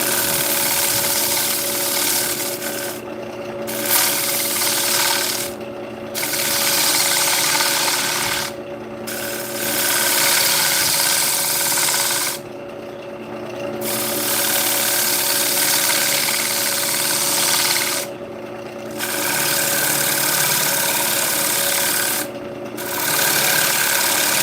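Wood lathe spinning as a gouge hollows out a large wooden bowl, a steady hum with a continuous scraping, rasping cut, broken by several short pauses where the tool lifts away.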